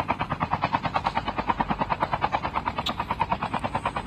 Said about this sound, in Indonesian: Wah, ditembak helikopter kita guys.